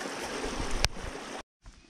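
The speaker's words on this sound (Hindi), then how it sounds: "कलकल की ध्वनि आप सुन पा रहे हैं।" Broadband water rush of a stream at Bana, a forested picnic spot in Sukma district, Chhattisgarh, steady and fairly loud for over a second, with one sharp knock, a brief dropout, then the flow returning quieter.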